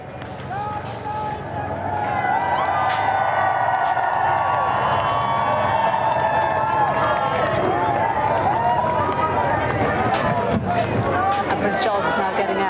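A large crowd cheers loudly and continuously as King Charles arrives, a dense sustained roar with scattered shouts and whistles building over the first seconds and holding steady throughout.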